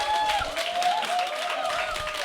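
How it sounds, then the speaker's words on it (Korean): An audience at a motivational lecture bursts into steady applause, a dense continuous patter of many hands clapping at a lively level for the whole stretch. "박수 크게 해주시면 되겠죠?"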